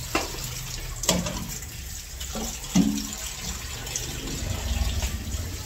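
Tap water runs steadily into a sink during dishwashing, a soft continuous splash with a few louder clinks and knocks of dishes, close by and without talk.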